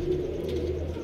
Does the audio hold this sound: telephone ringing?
no